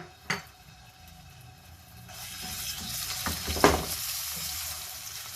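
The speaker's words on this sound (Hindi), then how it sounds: "अब ऑयल में मैं डालने लगी हूँ 1 टीस्पून लहसुन" A teaspoon of garlic drops into hot oil in a pan, starting with a soft hit and rising into a steady loud sizzle, with a brief clink of a utensil while stirring.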